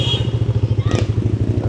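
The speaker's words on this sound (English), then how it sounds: "Motorbikes, everything." Motorbike engine puttering nearby in Philippine street traffic at night, a steady pulsing low chug with a brief louder swell of passing traffic midway.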